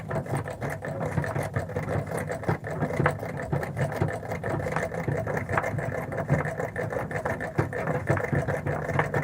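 A treadle sewing machine doing free motion quilting runs in a steady, continuous mechanical whir with a fast rhythmic needle clatter, close and moderately loud, holding an even pace throughout with no talk.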